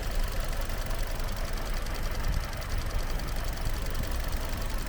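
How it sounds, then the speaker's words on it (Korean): A Hyundai Avante AD 1.6 engine idles steadily, a continuous loud rumble with a fine, even knocking texture and no talking. "엔진 소리도 좋고 깨끗하네요."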